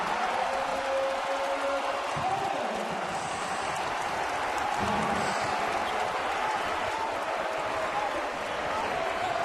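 A college basketball arena crowd at Bucknell vs. Wake Forest cheers and applauds after a dunk, a dense, sustained roar of many voices and clapping that stays loud and even, with commentary voices over it.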